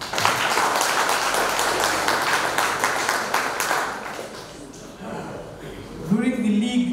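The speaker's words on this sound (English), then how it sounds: "I think we need a round of applause for the president." Clapping for the president at a Fiji soccer premier league presentation, a steady patter of applause that thins out after a few seconds, followed by a voice speaking.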